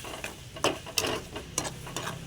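Masala is sautéed in plenty of oil for an egg gravy, with a soft background sizzle broken by several brief scrapes and clinks of a spoon stirring against the pan, close and moderate in level.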